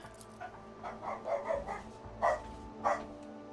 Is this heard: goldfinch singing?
no